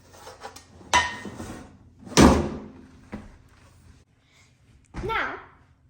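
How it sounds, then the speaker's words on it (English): A pan pulled out of an oven warming drawer makes several loud metallic clatters and a drawer-like bang, with a voice speaking among the knocks. "then get the pan out of the warming drawer"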